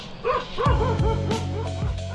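Dogs in India giving several short yips and whining barks close by, a few spaced calls over a steady outdoor background.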